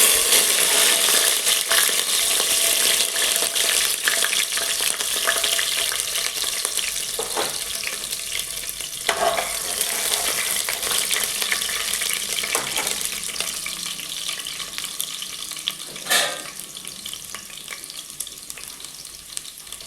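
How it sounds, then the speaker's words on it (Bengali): Chopped garlic fries in hot oil for a spicy mutton and pulao meal, a bright continuous sizzle with occasional scrapes of a spoon against the pan, close and alone without talk. "তেলটা বেশ গরম হয়ে এসছে, এবার আমি এর মধ্যে দেব কুচিয়ে রাখা রসুন।"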